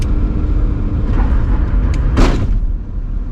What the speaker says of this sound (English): It did it. Wheels locked up.